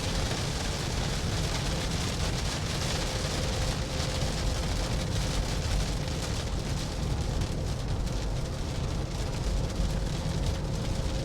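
Rain drumming steadily on a 1992 Mercedes W124 300E with a manual gearbox, heard from inside the cabin while driving, mixed with a constant low road and engine rumble and a faint tonal hum, with no speech.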